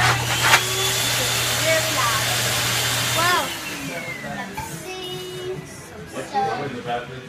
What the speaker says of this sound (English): We have a hand dryer blower.